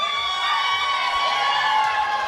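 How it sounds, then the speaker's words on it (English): Crowd cheering at a world powerlifting championship, a loud sustained roar of whoops and shouts from many voices in an arena, continuous across the moment. "And the crowd pops again"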